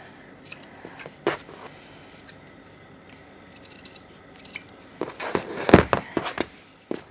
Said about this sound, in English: So now I'm just going to trim these edges.